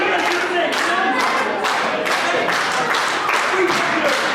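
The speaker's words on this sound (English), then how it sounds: "Listen to this crowd in Skegness. They're having a great evening." A wrestling crowd at a live show in Skegness claps and cheers in a dense, continuous roar with rhythmic clapping bursts, while a commentator talks over it.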